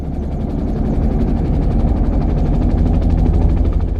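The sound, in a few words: helicopter sound effect on the radio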